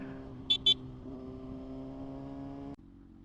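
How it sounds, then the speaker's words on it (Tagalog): Two quick, close horn toots sound over the steady drone of engines in Mexico street traffic, and the engine noise drops away abruptly near the end. "Itong part na to ng Mexico traffic talaga."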